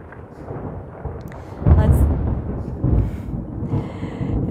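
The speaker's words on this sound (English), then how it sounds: "It's about to rain here, so the thunderstorms are really talking to us." Thunder from an approaching storm before rain, a deep low rumble swelling heavily midway and rolling on, fairly distant, outdoors.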